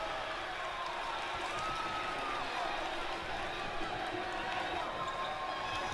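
A steady crowd roar fills an NXT wrestling match in WWE 2K20, a continuous wash of cheering noise with no breaks or peaks.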